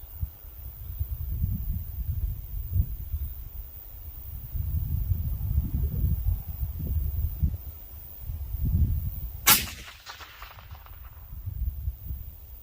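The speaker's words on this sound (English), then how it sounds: "We'll do 2 shots at a time so we didn't get it too hot." A single loud, close rifle shot from a Haenel Jaeger NXT straight-pull hunting rifle cracks out with a short ringing tail, over a steady low rumble of wind outdoors.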